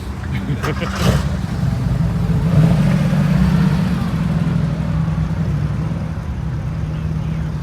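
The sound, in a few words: cars driving past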